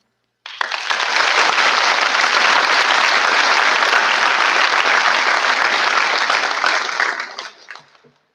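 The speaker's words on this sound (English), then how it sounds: "please join us in one more round of applause for all of our award recipients." Audience of parents, students and teachers at a school awards ceremony gives a loud, sustained round of applause for award recipients, dense clapping swelling quickly and holding steady before tapering off near the end.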